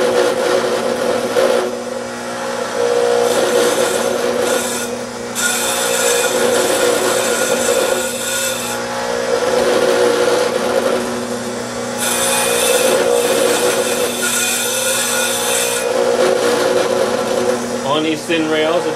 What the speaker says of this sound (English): So I'm going to give this another little grind here.